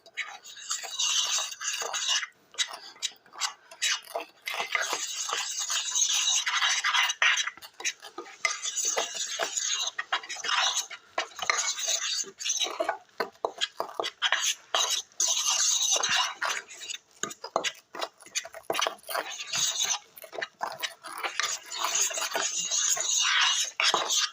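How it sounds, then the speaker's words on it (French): Cake batter being mixed in a bowl after an egg is cracked in, heard as rapid, continuous scraping and clinking of a utensil with short pauses, with faint voices now and then. "Vous cassez l'œuf, on casse l'œuf, puis on mélange."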